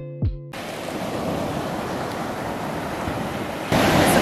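Sea waves wash onto a beach on the Irish coast in a steady, loud broadband roar with wind buffeting the microphone, preceded by a brief rising voice-like sound at the start and growing louder near the end.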